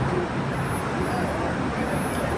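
Road traffic on a busy street heading toward an expressway during a football match day, a steady dense roar of passing cars and buses filling the whole clip under occasional voices.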